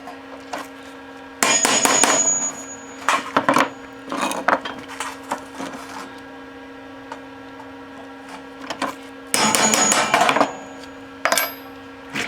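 Hammer blows drive a cheap awl into metal to make a dimple, coming in sharp metallic bursts of rapid taps separated by pauses, close over a steady background hum.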